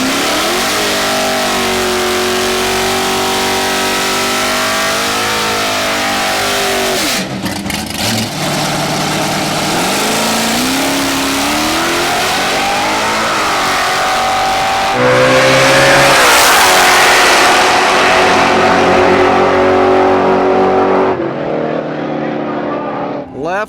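Drag racing cars roar down the strip, including a Nova in the left lane, with loud engines revving, shifting and accelerating hard, then a louder burst of engine noise late on, while an announcer's voice runs over the noise.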